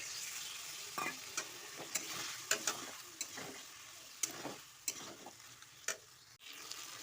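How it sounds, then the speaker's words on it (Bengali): Boiled potatoes are stir-fried in a pan with oil and a little water, a steady hiss of frying under sharp, regular spatula scrapes, close by and without speech. "আলুটা আমি একটু জল দেবো দিয়ে আলুটাকে ভালো করে কষিয়ে নেব"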